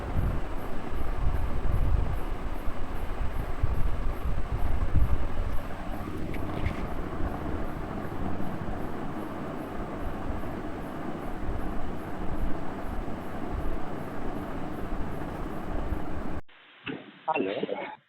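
Busy factory ambience fills the space with a dense, rumbling, machine-like roar and clatter, steady and fairly loud for most of the stretch before cutting off abruptly near the end, with faint voices mixed in.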